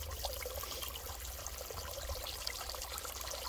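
Pressurized water drains steadily from a cut 1.5 inch PVC sump discharge line in a backyard sump system, giving a continuous close pouring trickle with no talk over it.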